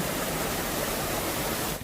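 An Australian waterfall in winter, swollen with heavy flowing water, roars as a steady, dense, close rush that cuts off abruptly at the end.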